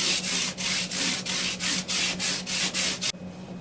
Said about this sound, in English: start polishing them up, get some little scratches out of the sides